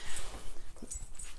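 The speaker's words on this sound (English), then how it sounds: "I can see my little dog is at the slider door." A small dog indoors just after coming in through a sliding door, making short whimpers and faint whines close by, with low rumbling background noise and no talking.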